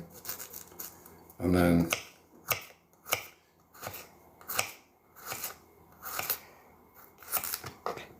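A knife slicing through an onion in a home kitchen while Italian food is prepared, giving a series of short, crisp cuts, one louder crunchy stroke early on, then sharp taps at an uneven pace, with brief talk nearby.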